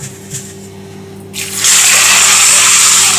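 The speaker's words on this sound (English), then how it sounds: "So just pour water in," Water gushes steadily from a tap over dry cannellini beans in a bowl, starting abruptly after a quiet moment and then running loud and continuous, close by.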